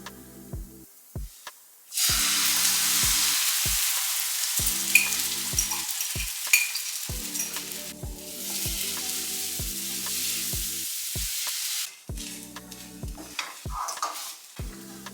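A three-ingredient, gluten-free, high-protein pancake sizzles loudly as it fries in a pan. The frying hiss comes in long stretches with brief pauses, and a steady beat of background music runs underneath.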